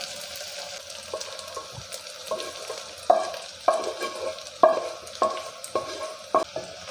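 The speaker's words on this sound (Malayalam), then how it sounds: "ഇതൊന്ന് ജസ്റ്റ് എണ്ണയിലൊന്ന് വഴറ്റി കൊടുക്കാം." Pork with onions and toasted ground spices being sautéed in oil for an Angamali-style pork and koorkka dish, with steady sizzling and repeated scraping stirs of a spoon against the pan, fairly close, no talking.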